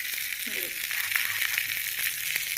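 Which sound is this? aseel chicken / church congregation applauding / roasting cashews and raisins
roasting cashews and raisins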